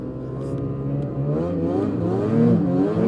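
A new full-size Ski-Doo snowmobile engine rising in pitch as it accelerates under light throttle, loud and close, with a steady climbing drone and no talk.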